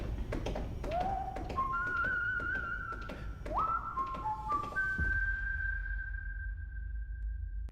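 A person whistles a TV theme tune, a run of clear rising and sustained notes climbing to a long held high tone, loud and close over steady low background noise.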